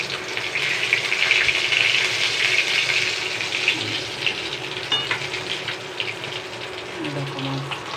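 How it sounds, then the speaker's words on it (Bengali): Fish frying in a pan, a continuous hissing sizzle up close that holds steady, then eases slightly toward the end, with no voices. "এই দেখো মাছ ভাজা হচ্ছে"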